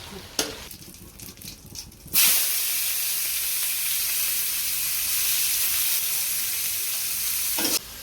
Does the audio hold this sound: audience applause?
no